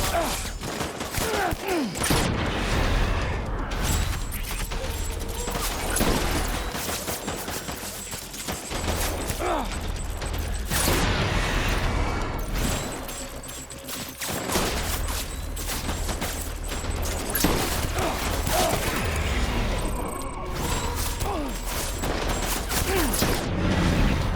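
Video game gunfire in Death Stranding, with dense bursts of shots and mechanical clatter running continuously at close range against a busy, loud mix.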